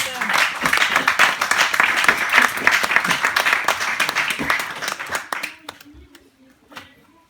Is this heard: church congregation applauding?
yes